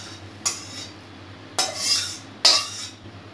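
Asafoetida-infused oil is stirred into ground lentil paste: three short scraping clinks of a utensil against the bowl, spaced about a second apart, over a quiet background with no talk.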